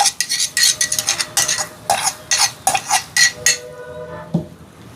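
Crushed garlic being stirred into onions sautéing in a pan, with a spoon scraping and clinking against the metal in quick repeated strokes, close and fairly loud over a faint background sizzle.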